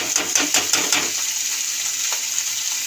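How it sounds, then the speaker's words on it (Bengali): Chopped fenugreek leaves go into a pan of frying brinjal, with a burst of quick scraping, clattering stirs followed by a steady, close sizzle. "এবার আমি শাকটা দিয়ে দেবো।"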